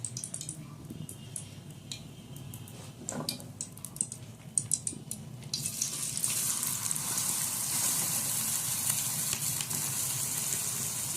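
Onions dropped into a hot pan for matar masala, a few utensil clinks and light taps first, then a loud sustained sizzle starting abruptly and continuing close and steady.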